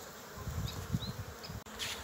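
Honey bees buzz around the entrance of a hive kept outdoors through winter in early spring, a close, steady hum with individual bees flying past now and then.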